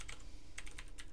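Keys tapped on a computer keyboard in bursts of quick clicks, close and fairly quiet, with short pauses between the groups and no voices.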